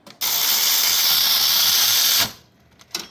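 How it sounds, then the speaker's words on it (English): Power tool driving down bolts on a 2016 Acura MDX during a serpentine belt tensioner job, a loud continuous whirring hiss for about two seconds, then a stop and a few faint clicks. "you can use your ratchet or something to make your life easier"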